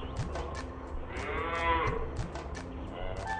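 A cartoon cow lets out a drawn-out, close moo in an animated story, rising and falling over a busy background with a few sharp clicks and no talk.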